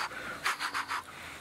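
A person imitates a leopard's chuff call with a quick series of about four soft, breathy puffs, close and fairly quiet.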